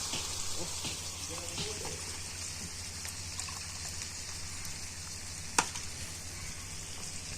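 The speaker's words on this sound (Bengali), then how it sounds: "এবারে এটাকেও লাল করে ভেজে নেব" Finely sliced onions frying in hot oil, a steady soft sizzle with faint scraping stirs, one sharp clink near the end; background hiss throughout.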